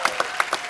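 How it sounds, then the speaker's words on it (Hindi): A few sparse claps in quick succession, light and brief, with no voices. "जोरदार तालियां डॉक्टर साहब के लिए प्लीज।"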